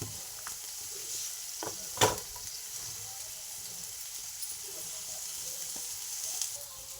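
Mustard seeds and cumin sizzle in hot oil in a pan as the base for a beetroot palya, giving a steady crackling fry with one sharp pop burst near the start and fainter spits throughout.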